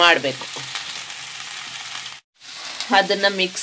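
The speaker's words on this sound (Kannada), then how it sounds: "ನೋಡಿ, ನಾನಿಲ್ಲಿ ಹಾಗಲಕಾಯಿ ಫ್ರೈಗಿಟ್ಟಿದ್ದೀನಿ" Bitter gourd frying in oil with salt, turmeric and curry leaves gives a steady, close sizzle that briefly drops out, with someone talking over it at the start and end.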